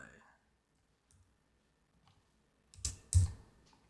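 Sparse clicks on a computer keyboard as notes are typed in by hand, a few isolated taps followed by a louder burst of keystrokes near the end, in a quiet room.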